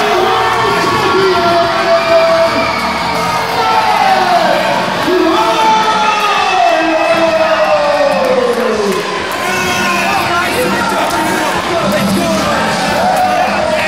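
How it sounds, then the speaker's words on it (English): Loud crowd at a PCW heavyweight wrestling championship cage match in California roars and cheers continuously, with shouts, whoops and rising yells layered over the din, close and sustained throughout. "And the crowd erupts."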